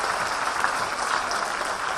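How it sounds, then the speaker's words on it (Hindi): An audience at a talk in Pune gives steady, dense applause for Rajesh Sankla, a continuous wash of many hands clapping at an even, loud level throughout. "एक बार जोरदार तालियां राजेश जी सांकला के लिए दे दीजिएगा।"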